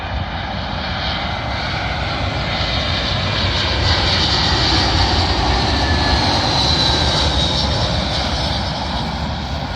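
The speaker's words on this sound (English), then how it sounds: "Arriving in now is British Airways A320, working a service from Glasgow to London Heathrow." A British Airways Airbus A320 arriving from Glasgow lands on runway 27L at London Heathrow, its jet engines a steady, loud broadband roar that holds close and constant throughout with no voices.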